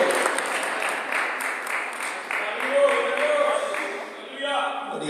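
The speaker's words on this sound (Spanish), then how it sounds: "Denle un aplauso fuerte al Señor." A church congregation at a Sunday evangelical service gives a strong, sustained round of applause, many hands clapping together with a few faint shouts mixed in.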